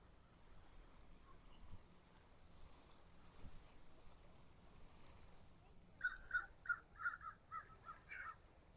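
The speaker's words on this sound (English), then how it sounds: "Get some birds flying around here, some crows." Crows caw at a beach under faint surf and wind noise. After a stretch of quiet ambience comes a quick run of about eight loud, harsh caws in close succession.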